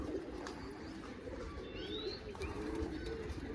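A pigeon coos near a rooftop loft where racing pigeons are kept, soft and close over a steady outdoor background, with faint chirps around it.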